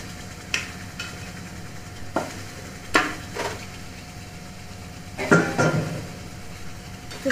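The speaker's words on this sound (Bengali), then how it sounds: "তো চিকেনটাকে দিয়ে খুব ভালো করে কষাতে হবে।" Chicken for korma fries in a pan while being stirred, with a low steady sizzle under several distinct scraping and clinking strokes of a spoon against the pan.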